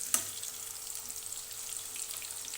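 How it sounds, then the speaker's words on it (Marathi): Raw banana slices frying crisp in hot oil over a high flame, giving a steady soft sizzle with faint crackles and one sharp pop near the start. "फास्ट गॅसवर याला क्रिस्पी होईपर्यंत फ्राय करून घ्यायचं"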